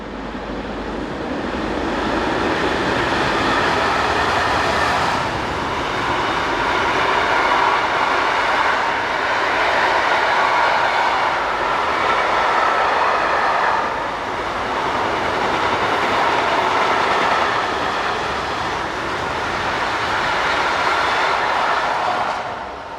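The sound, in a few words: electric locomotive 189063 hauling a freight train east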